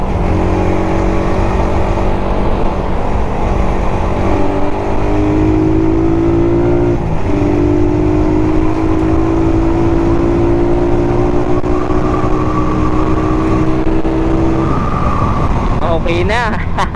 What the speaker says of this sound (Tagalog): Subukan natin takbo na Raider.